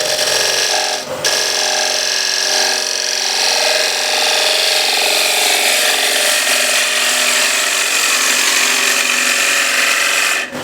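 A sharpened woodturning gouge cuts a large wooden platter spinning on a lathe, giving a loud, continuous shearing hiss over a steady motor hum, with a brief knock near the start.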